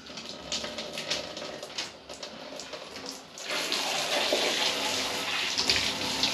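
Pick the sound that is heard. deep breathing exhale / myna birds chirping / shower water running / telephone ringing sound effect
shower water running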